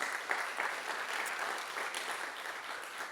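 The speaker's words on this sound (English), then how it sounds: "let's give you a round of applause for that" A conference audience at a medical summit on IBD care bursts into sustained applause, a dense, steady wash of many hands clapping that stays loud and even throughout, with no talking over it.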